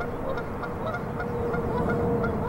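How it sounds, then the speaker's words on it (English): Geese honking in a loose flock along the Olentangy River, repeated short calls over a steady low rumble of outdoor background noise. "the grazing geese along the Olentangy River"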